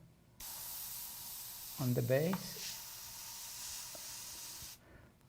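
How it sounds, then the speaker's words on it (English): Spray paint hisses onto a fantasy painting in one continuous, fairly close burst lasting about four seconds, with a short spoken phrase overlapping the middle before the spray cuts off. "I just lift a little bit and then spray."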